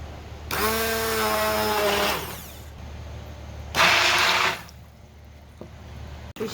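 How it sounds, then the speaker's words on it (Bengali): A hand blender purees boiled papaya in two loud whirring bursts, the first longer with a shifting motor pitch, separated by a quiet pause and ending with a small clack. "পেঁপেটাকে সুন্দরভাবে সিদ্ধ করে নিয়েছি, এখন ভাবে ব্লেন্ডার করব। তো এটা আমি একটা হ্যান্ড ব্লেন্ডার নিয়ে নিয়েছি।"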